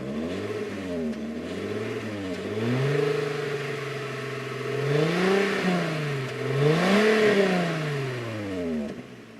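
A Volkswagen Corrado VR6 engine revs repeatedly, its smooth six-cylinder note sweeping up and down in pitch, close and steady, with no talking.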